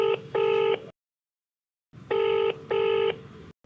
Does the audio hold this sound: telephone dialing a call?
yes